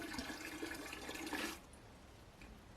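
Water pours from a rainwater collection tap inside a greenhouse, a close steady splashing flow that cuts off abruptly halfway, leaving quieter trickles.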